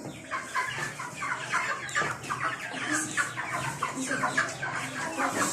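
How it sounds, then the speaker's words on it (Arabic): White hens clucking in a coop bedded with wood shavings, many overlapping clucks and squawks repeating continuously at close range with no one talking over them. "احنا بنحب نربي الفراخ البيضه"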